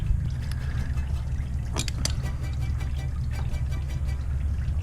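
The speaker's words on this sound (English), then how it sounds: "coolant went everywhere on that one. So I'm gonna let the radiator drain more." Engine coolant trickling and splashing out of a disconnected radiator hose on a Honda EK9 with Skunk2 hoses, a steady liquid pour with a low hum beneath and a few sharp clinks partway through.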